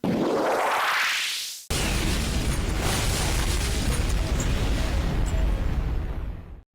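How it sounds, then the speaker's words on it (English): Pokemon Explosion move effect from a competitive Pokemon battle game: a rising whoosh sweeps upward, cuts off, then a loud sustained crackling blast roars for several seconds before ending abruptly. "the last move on his Metang was Explosion"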